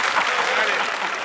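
An audience applauds a song during a comedy stage show, producing a dense, even wash of clapping that holds steady and close for the whole short stretch.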